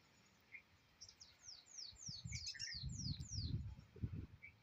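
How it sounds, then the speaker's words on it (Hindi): Small birds chirping outdoors: a quick run of thin, descending tweets with a few scattered calls, faint and somewhat distant, over low rumbling noise and no speech. "अभी मेरे आसपास इतनी सारी चिड़िया बोल रही हैं"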